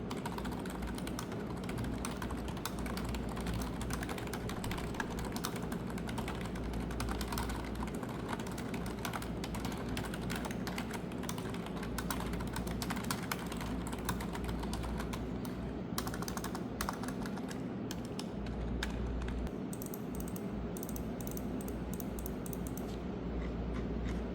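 Steady typing on a soft, muffled Logitech MK540 membrane keyboard, a continuous rapid patter of key presses with no talking, close and moderately quiet.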